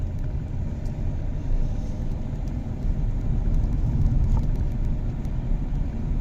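A car accelerating during a driving lesson on an exam route gives a steady low engine rumble that holds and rises slightly in level over several seconds, heard close from inside the cabin with no talk.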